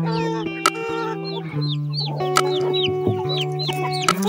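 Chickens selected for breeding cluck and call close by, with repeated rising squawks, sharp clucks and a sustained low drone beneath, no talk.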